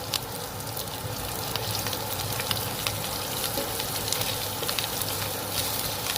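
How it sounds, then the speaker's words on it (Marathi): Red chilli spice mix and fresh coriander sauté in hot oil and butter, giving a dense, continuous crackling sizzle with scattered pops and faint stirring scrapes. "थोडीशी कोथिंबीर घालू परतवून घेऊ"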